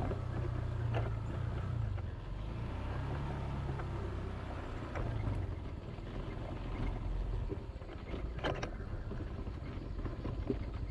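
A car engine braking downhill on the Campinsa Hills road in Minglanilla, Cebu gives a low, steady droning rumble from inside the vehicle, with wind noise over it and faint rattles.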